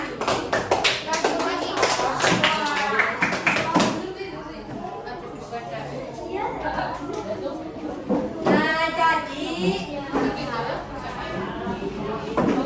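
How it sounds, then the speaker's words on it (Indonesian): Children in a sixth-grade classroom give a short burst of clapping for their teacher. The claps are close and fairly loud, mixed with chatter and a teacher's voice talking over them. "tepuk tangan dong buat gurunya"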